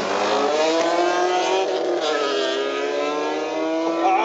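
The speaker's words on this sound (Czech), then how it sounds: "A zase ten zvuk té 46 M3, ten nádhera" BMW E46 M3 straight-six engine accelerating hard in a sprint race, a loud, sustained high-revving howl with rising harmonics held steadily close for the whole stretch, with no talking.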